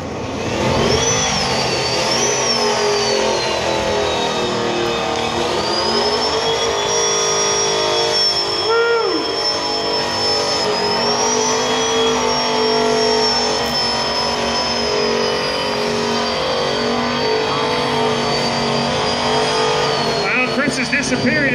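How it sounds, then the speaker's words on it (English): Muscle cars doing burnouts in a contest scream with sustained, high-revving engine noise and tire squeal, loud and continuous for the whole stretch, with voices talking underneath. "Drifting burnout cars."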